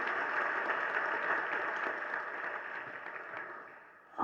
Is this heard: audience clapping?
yes